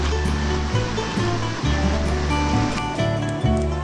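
Creek water flowing steadily at a river crossing on a hike, a continuous broadband rush close by, with a recurring low rumble beneath it and no talking.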